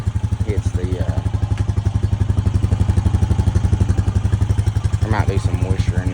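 A 2025 Honda Rancher 420 ATV idles after a cold start in 15–26 °F weather, running on 0W-30 oil. Its steady, rapid engine putter carries close and loud through the whole stretch, with faint clatter and a few brief voice-like sounds over it.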